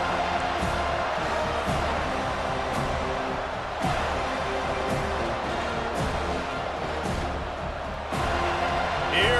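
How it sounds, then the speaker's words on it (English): Home football stadium crowd roaring and cheering as the defense takes the field on third down, a broad sustained wash of noise with swells and whoops, under a commentator's voice. "Here comes this home crowd as the defense tries to get off the field on third down."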